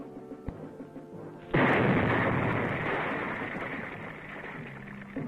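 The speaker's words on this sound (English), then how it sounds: "his mine explodes" A booby-trap mine detonates in a sudden loud blast during a Vietnam War-era demolition, with a broad roaring burst that lingers and slowly fades over several seconds.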